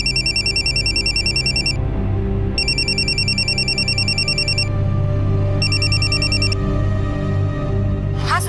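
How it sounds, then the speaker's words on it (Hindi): A mobile phone rings with an incoming call placed from a PCO payphone, repeating bursts of bright electronic ringtone over a steady hum of room tone, with a brief rising sound at the very end. "मैंने पीसीओ से उसके मोबाइल पर कॉल किया"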